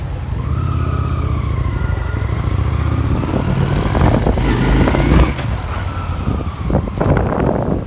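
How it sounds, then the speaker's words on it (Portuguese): Struggling motorcycle engine with a fault, misfiring and running rough, its low irregular rumble close and loud with uneven stutters and surges throughout. "Eu vou colocar o take aí para vocês da moto falhando."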